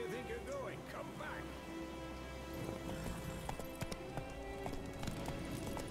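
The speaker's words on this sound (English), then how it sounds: "let's jump on the horse" Horse hooves in the video game The Witcher 3, a steady rhythmic clip-clop of a ridden horse at moderate distance over a background of ambient game sound and faint rain.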